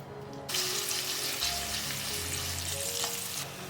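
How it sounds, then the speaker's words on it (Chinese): Small pieces of chicken fat render in a cold pan over low heat, giving a steady close sizzle and crackle that starts after a brief quiet moment and runs on evenly. "然后冷锅小火慢煎出鸡油"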